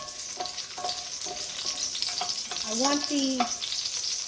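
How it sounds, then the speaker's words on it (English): Garlic frying in oil in a pan, a steady bright sizzle filling the whole moment, up close, with a person speaking briefly over it. "I put some oil in the pan, and I am now browning my garlic"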